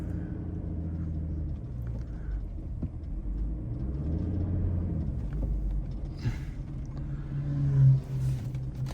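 A Toyota Land Cruiser 300 creeps forward, its engine a low, steady rumble heard from inside the cabin, faint and continuous with a slight swell near the end.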